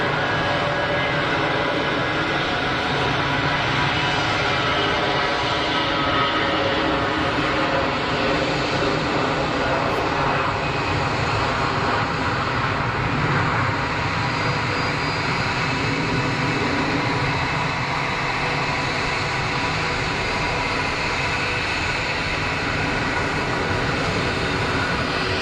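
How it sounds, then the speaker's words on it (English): A Saudia Airbus A320 jet rolls for takeoff at Geneva Airport, a loud, steady broadband engine roar that holds unbroken for the whole stretch with no voices over it. "Saudi 320 is rolling"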